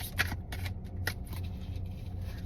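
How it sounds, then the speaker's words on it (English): A deck of tarot cards riffled in a few quick, crisp bursts of papery flutter, close and fairly quiet over a steady low hum. "One last shuffle and we will wrap it up."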